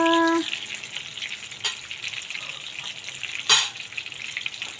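Eggplant omelette (tortang talong) frying in oil in a pan, a steady soft sizzle with a couple of sharp clinks or scrapes partway through, close by and moderately quiet.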